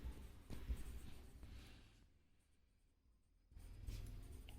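Marker or chalk writing on a classroom board for a maths bar graph lesson: scratchy strokes in two bursts with a quiet pause between, close and moderately loud, no talk.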